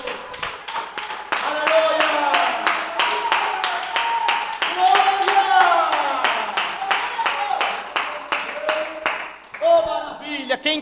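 A church congregation claps in a steady rhythmic beat while voices shout and sing over it, the clapping carrying on evenly before a brief pause and a final burst near the end.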